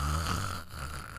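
A person imitating snoring while playing Minecraft on Xbox, one drawn-out, close, buzzing snore-like breath filling the whole moment, with no clear words.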